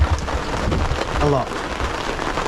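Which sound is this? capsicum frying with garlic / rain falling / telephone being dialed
rain falling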